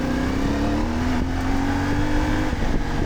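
A CF Moto 450 MT motorcycle engine pulls hard in third gear, a loud steady rising drone with the pitch climbing gradually and continuously throughout, close and without any talk.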